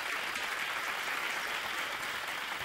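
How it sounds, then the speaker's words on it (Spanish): A television game show studio audience gives a dense, even burst of welcoming applause, continuous and full throughout, with no voices over it. "Un aplauso de bienvenida"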